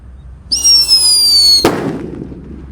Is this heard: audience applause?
no